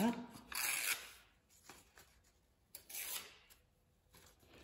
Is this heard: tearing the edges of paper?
yes